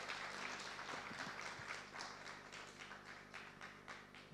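A studio audience at a televised Indian news forum applauds to welcome guest Nitin Gadkari, a dense, even wash of clapping that holds steady and eases off slightly.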